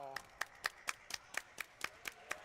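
A studio audience claps in a regular slow rhythm, about ten distinct claps evenly spaced, fairly quiet and close.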